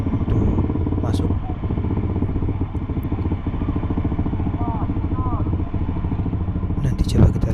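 Motorcycles on a newly reopened road at Lembah Anai, a dense rumbling, chugging engine clatter moving steadily nearby, with people talking over it and a brief louder burst near the end.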